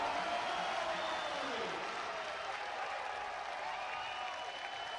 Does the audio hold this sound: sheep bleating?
no